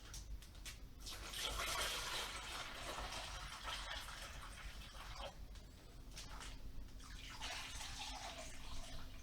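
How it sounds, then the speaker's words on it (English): Brine solution poured into bags of pork chops, a continuous faint splashing and gurgling of liquid with soft plastic rustles, steady and close throughout. "We're just going to pour some of this solution in each bag."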